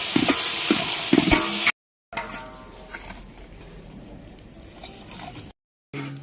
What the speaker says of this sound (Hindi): तो अब ये चावल डाला गया और इनको आराम से भूना जाता है एक बार।